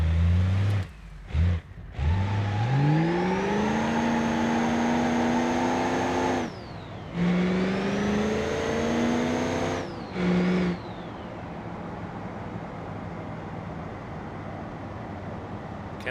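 A car in BeamNG.drive revs hard in repeated rising bursts, its engine tone climbing and dropping between short pauses before settling into a steady drone as it drives and spins donuts on a bridge.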